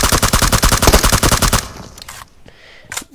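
Rapid automatic gunfire from PUBG Mobile rattles loud and close for about a second and a half, then cuts off, leaving quieter scattered game sounds and one more sharp crack.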